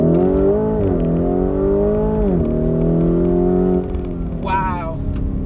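A Lamborghini Urus SUV pulls hard with its engine note climbing through the gears. It winds down briefly and then surges again, loud and close as if heard from inside the cabin, and a voice talks over it.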